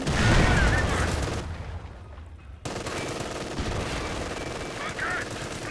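Rapid machine-gun and rifle fire crackles densely in a Company of Heroes 2 battle, dropping to a brief lull before the shooting resumes with heavy continuous bursts and occasional booms.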